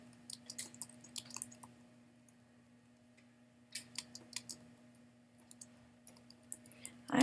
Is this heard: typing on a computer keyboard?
yes